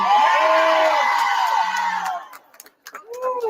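Loud crowd cheering and whooping at an election night event, a dense wall of shouts and yells that thins out and fades after about two seconds before a few voices pick up again near the end.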